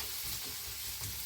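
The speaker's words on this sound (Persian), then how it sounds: "هویج اضافه میکنیم یکم تفت بخوره" Carrots sauté with turmeric in a hot pan, giving a steady, close sizzle and hiss with no voices.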